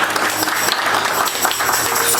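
A church congregation claps together in sustained, dense applause that stays loud and even throughout, with some voices mixed into the crowd.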